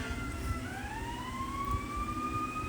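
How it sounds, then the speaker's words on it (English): Emergency vehicle sirens wail in the distance outside, a faint rising two-tone howl drifting under low room noise with no voices. "You probably hear the sirens in the background."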